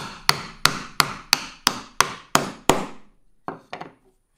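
Sharp hammer blows driving dowel sleeves into a board, about eight evenly spaced strikes, then a pause and two lighter taps, close and clear with no talking.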